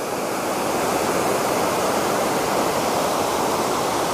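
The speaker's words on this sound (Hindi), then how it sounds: "यही झरनों से पानी गिरता हुआ पहाड़ों से होकर के आता हुआ नीचे कुंड में गिरता है" Chand dri waterfall in Kaimur, water tumbling down from the hills into a pool below, a dense, steady roar of falling water, loud and close, continuous with no other sounds.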